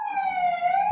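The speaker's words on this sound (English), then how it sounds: "I think that was the ambulance coming for somebody in the chat" Ambulance siren sounding as one steady, clear wail that stays loud throughout, then cuts off abruptly at the end.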